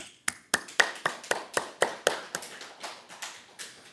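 A church congregation claps hands together in thanks during a Sunday service, about fourteen sharp, evenly spaced claps, close and fairly loud, with no talking.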